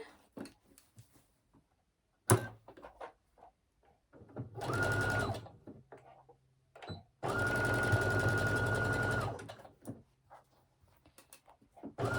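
A sewing machine stitching a seam on a pair of leggings runs in two fast, even bursts of a few seconds each, with quiet handling clicks and pauses in between.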